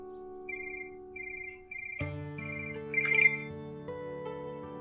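Phone ringtone in a Pakistani drama scene, a repeating electronic ring in short bursts, then a melodic tone with a musical score rising underneath, with no talk.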